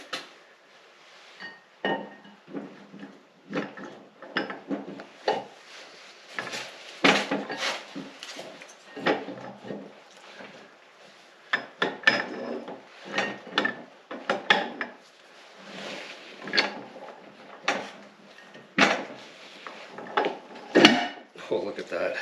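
Metal parts of a Letourneau Tournapull D gearcase being dry-fitted together during a rebuild: irregular clunks, scrapes and knocks, some louder impacts, with occasional talk between them.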